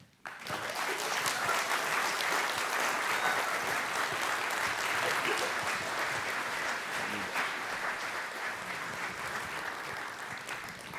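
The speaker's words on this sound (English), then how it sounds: "tonight I would like you to give a warm applause and greetings to our good friend here, Pitamyan and Max, Phillip Cash Cash." Sustained audience applause at a cultural event fills the hall, a dense wash of many hands clapping that starts abruptly and carries steadily for about eleven seconds with little fading.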